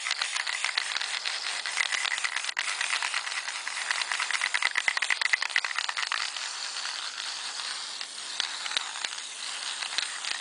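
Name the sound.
shaking a spray lacquer can, ball rattling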